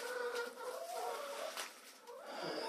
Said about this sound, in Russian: Так что две курочки у нас сидят,